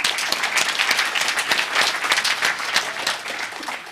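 Applause from a classroom-style audience at a memory training session during a hacker conference, steady dense clapping filling the whole stretch, loud and close with no voices over it.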